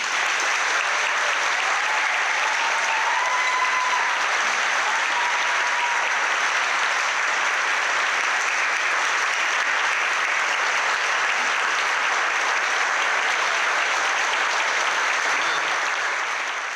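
A crowd at a 2022 graduation celebration gives long, even applause that stays full and loud throughout, with a few faint cheers and whistles rising above the clapping.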